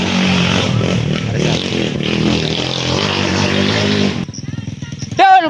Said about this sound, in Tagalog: Grabe power na sa yung motor dol.